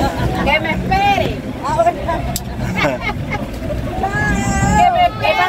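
A motorboat carries passengers along the coast at Playa Amuay on the Paraguaná Peninsula, its steady engine and water rush loud and continuous beneath excited voices talking and calling out over the ride.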